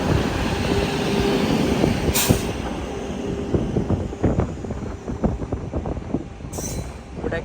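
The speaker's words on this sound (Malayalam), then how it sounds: "നാഗർകോവിൽ ഭാഗത്ത് ഇപ്പോഴാണ് ട്രെയിൻ വരുന്നത്." The Vivek Express pulls into Nagercoil, wheels clicking and squealing over the rails in a rhythmic series of clacks, with brief high screeches, fairly close and loud.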